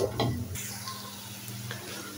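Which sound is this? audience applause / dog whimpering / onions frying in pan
onions frying in pan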